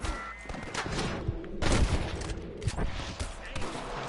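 Dense, rapid gunfire crackles through a Red Dead Redemption shootout against snipers, bursts overlapping with sharp cracks and a heavy boom near the middle, loud and close throughout.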